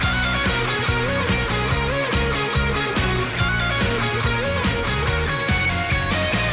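Upbeat, busy instrumental Pokémon theme music plays loudly and continuously with a driving rhythm and bright melodic parts, no talking.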